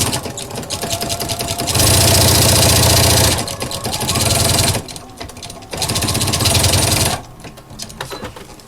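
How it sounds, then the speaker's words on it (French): A sewing machine stitches a fabric notebook cover in loud, rapid mechanical bursts, running in two long stretches separated by pauses with softer handling noise between them. "j'ai fait ma couture en haut, enfin des deux côtés avec des points d'arrêt"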